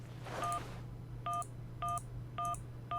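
Telephone keypad dialing tones from a phone in the point-and-click video game Syberia: a burst of noise, then four evenly spaced, clear electronic beeps, loud and alone over a low hum.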